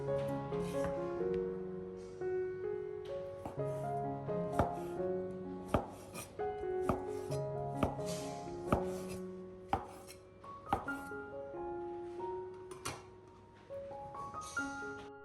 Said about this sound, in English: Cut one sausage in half, then slice it thinly.